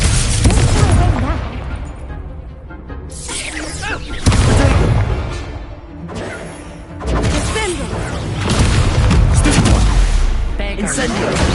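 Spell blasts in a Harry Potter wizard game hit as loud booming crashes and whooshing impacts in repeated waves, with speech mixed in among the effects.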